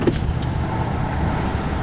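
Interior road noise from a car moving through the town of Wiscasset, Maine: a steady low rumble of tyres and engine fills the cabin, with a faint brief click near the start.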